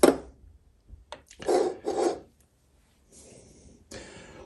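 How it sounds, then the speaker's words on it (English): A spindle pushed down through the greased shaft of an ice fishing tip-up gives a few short, close rubbing and squelching scrapes separated by quiet gaps, with no talk. "So right now I am taking the spindle, pushing it down."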